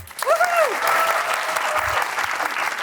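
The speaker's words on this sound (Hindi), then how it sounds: "तालियां" Studio audience applause on a comedy talk show, a loud, dense burst of clapping sustained for a few seconds, with a voice briefly rising over it at the start.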